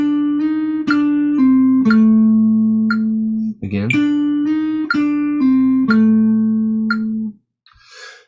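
Blues lead phrases on guitar using hammer-ons and pull-offs, sustained notes shifting pitch over a steady metronome click. A brief voice cuts in near the end.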